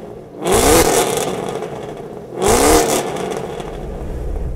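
A modified 1LE engine with a dual mode sport exhaust revs hard twice, close by, about two seconds apart, each blip surging then falling back to a rumbling idle.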